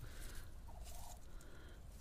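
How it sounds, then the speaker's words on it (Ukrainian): A domestic drake calls in a poultry yard, a low raspy gabbling heard alongside other fowl chatter and a constant background noise. "Оце наш качур."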